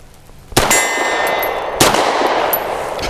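A Grand Power P1 Ultra pistol fires two sharp shots about a second apart at an outdoor range, each crack followed by a ringing metallic clang from a steel target that fades slowly.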